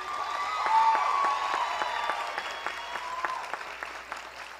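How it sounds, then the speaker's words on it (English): Graduates at a Southern commencement ceremony applaud their families in a big reverberant venue, swelling briefly then settling into a steady clatter that fades off, with a little cheering mixed in. "graduates, give your families a round of applause"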